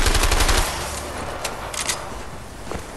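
Gunfire bursts in the video game A Way Out. A rapid, loud volley opens the moment, followed by scattered sharper shots over a dense background of noise.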